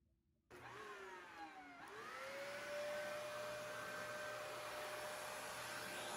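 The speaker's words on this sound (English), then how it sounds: "Press the power button to turn on the vacuum" A Dyson Ball Multi Floor 2 vacuum cleaner fitted with a stair tool switches on after a short silence, its motor whining up in pitch before settling into a loud, steady whir.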